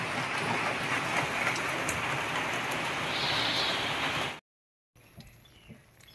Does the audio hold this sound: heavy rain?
yes